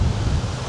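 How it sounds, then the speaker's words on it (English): Steady wind rushing and buffeting against a microphone, a low continuous roar with no voices. "It's kind of windy here at the moment."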